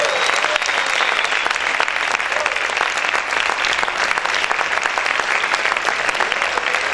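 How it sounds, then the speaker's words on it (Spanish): Church congregation applauding together, a dense, steady wash of many hands clapping close and loud for the full stretch without a break. "Vamos a aplaudir fuerte al Señor."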